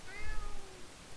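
A fuzzy house cat gives a single clear meow with a rising then falling tone, close by and moderately loud in a quiet indoor room.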